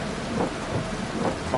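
Steady rain pours with a low rumble of thunder on a Wales rally stage in Dirt Rally 2.0, a constant dense wash with no voices.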